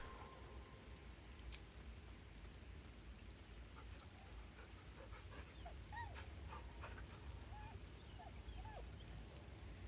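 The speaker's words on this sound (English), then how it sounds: "That dog." Dog whimpering in the rain in the Baldur's Gate 3 video game, soft high whines repeating several times over a steady, faint patter of rainfall.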